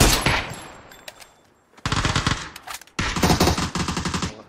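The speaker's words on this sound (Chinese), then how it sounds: "是我听你们枪声怎么咚咚咚咚咚？" Video game gunfire rattles in loud automatic bursts: a short volley at the start, scattered single shots, then two long sustained strings of rapid fire close by.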